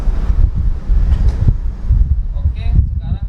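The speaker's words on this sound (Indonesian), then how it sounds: "dengan kondisi angin yang sangat kencang" Strong gusting wind buffets a Boya BY-MM1 microphone outdoors, a loud, continuous low rumble with bursts throughout, while someone talks at a distance.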